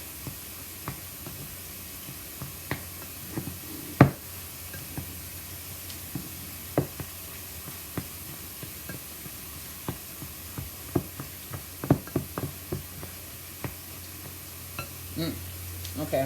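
A spoon stirs tuna salad made with carrots, celery, onions and pepper in a bowl, giving faint, scattered clicks and soft scrapes at an irregular rhythm over a quiet background.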